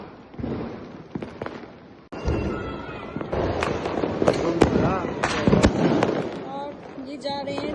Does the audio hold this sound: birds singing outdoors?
no